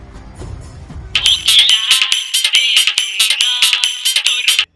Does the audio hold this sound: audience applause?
no